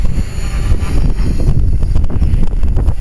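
Strong wind buffets the microphone outdoors during a model helicopter flight in roughly 15 mph gusts, a loud continuous rumbling roar that swells and dips with no speech.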